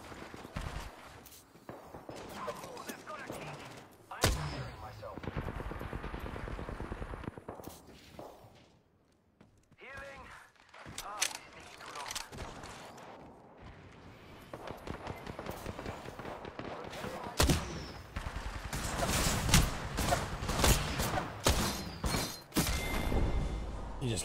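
Gunfire in Apex Legends, including a scout rifle, comes in sharp bursts and fusillades mixed with footsteps and crunchy game effects, fairly loud and continuous across the stretch with a short lull near the middle.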